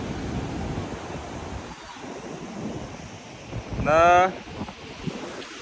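Sea waves wash onto the shore at Alibag beach, a steady surf roar with wind buffeting the microphone, and a brief shout rising over it partway through.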